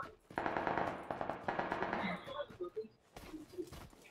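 Bursts of automatic gunfire from the video game PUBG, rapid rattling volleys in two clusters separated by a brief gap, then scattered shots, moderately close, with a player's voice faintly present.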